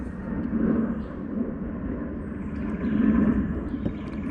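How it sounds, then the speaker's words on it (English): A jet aircraft passing overhead near Pittsburgh International Airport, a steady low broadband rumble that swells slightly around the middle and end, continuous throughout with no talk. "there's a jet going right over my head. You're probably going to hear that jet."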